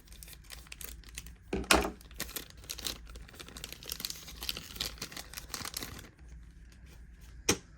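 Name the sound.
scissors cutting tape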